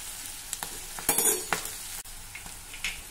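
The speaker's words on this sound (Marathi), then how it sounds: "मिरची आपल्याला जरा परतून घ्यायची आहे।" Green chillies sauté in hot oil in a pan, giving a soft continuous sizzle broken by several quick scraping and clinking stirs of a spoon against the pan, close up with no talking.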